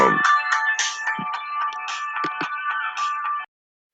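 A phone ringtone plays loudly and alone, a bright repeating electronic melody of quick chiming notes with a few low thumps, running steadily for a few seconds before cutting off abruptly.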